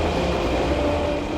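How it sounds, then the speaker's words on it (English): An animated bullet train rumbles past close by, a steady, loud rolling roar with a faint whine running through it, no voices. "Bullet train's back online and ready to roll."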